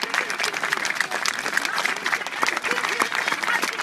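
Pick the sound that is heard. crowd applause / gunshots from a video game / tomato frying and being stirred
crowd applause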